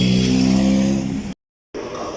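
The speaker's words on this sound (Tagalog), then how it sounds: "Yung bus na sasakyan ko, ayan na." A bus pulls up at a stop, its engine droning loud and close with a falling pitch as it slows, then cuts off abruptly into silence before lower traffic noise resumes.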